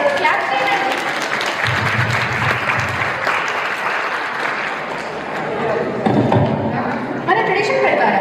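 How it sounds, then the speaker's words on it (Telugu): Crowd clapping at an Ugadi celebration in Sydney, steady applause running the whole time, with a host talking over it and occasional low thumps. "క్లాప్ చేయండి."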